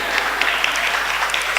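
Short burst of audience applause at a motivational talk, steady overlapping clapping that is fairly loud and close throughout.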